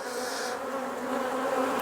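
Honey bees buzzing steadily on an open hive frame during a close-up hive inspection, a dense, continuous drone with no talking.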